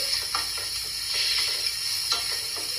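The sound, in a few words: frying with pepper for mushroom soup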